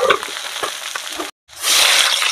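Small river fish frying in hot oil in a pan, a dense crackling sizzle that briefly cuts out and then returns louder and brighter.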